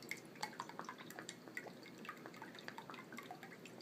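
Vietnamese fish sauce trickling into a measuring cup in a home kitchen, a faint run of small liquid drips and splashes.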